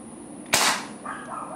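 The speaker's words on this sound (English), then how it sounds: "let me shoot more pellets before it gets dark" A Crosman 2300KT air pistol fires a single pellet outdoors: one sharp, close crack with a brief decaying hiss, followed by faint, quieter handling sounds.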